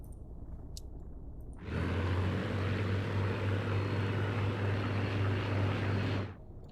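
WWII fighter plane engine in a Battle of Britain dogfight game, opening up to full throttle: a steady, loud propeller drone that starts abruptly, holds for several seconds, then cuts off.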